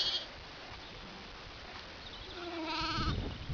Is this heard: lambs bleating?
yes